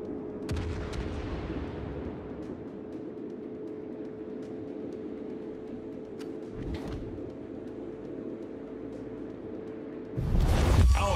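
Naval artillery in the World of Warships video game: deep booming gun blasts and scattered sharp reports over a steady engine drone, ending in a louder burst of fire.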